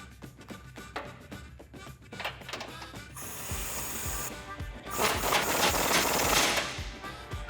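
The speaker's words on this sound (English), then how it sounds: "Now we can align this bumper and tighten it back down with the 21mm socket." A ratchet with a 21mm socket tightens a bolt on an aftermarket steel front bumper on a 2015–2017 Ford F150, giving rapid, steady clicking that gives way to denser, louder mechanical rasping, close up and continuous.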